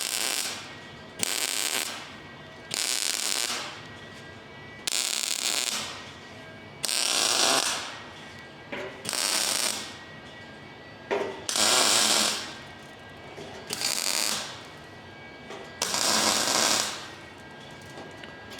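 Quick spot welds joining a sedan fender to a 1938 International pickup, a string of loud crackling, sputtering bursts about a second or two long with short quiet gaps between them, close up and without talk.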